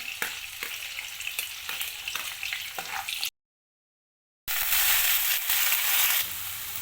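Onions and green chillies frying in oil for chicken liver fry, sizzling with crunchy stirring scrapes, cut by a second of silence before the sizzle returns louder, no talk.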